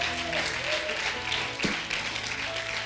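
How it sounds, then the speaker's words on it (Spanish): A church congregation applauds, a dense patter of many hands clapping at moderate distance and fairly soft, with voices and faint sustained tones mixed in. "Denle un aplauso al Señor."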